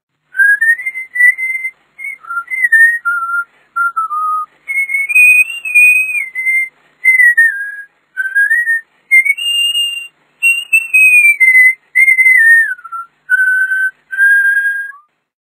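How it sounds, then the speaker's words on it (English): A melodic tune is whistled in short, bright phrases in the Tweenies Tales video game, with brief pauses between them and no talking. "Cowboy Jake was very happy and whistled as he took the cattle home"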